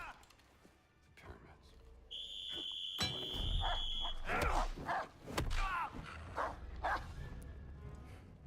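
A dog barks repeatedly in Indiana Jones and the Great Circle, loud bursts amid an alarm-like tone and busy game sounds, with someone talking over it.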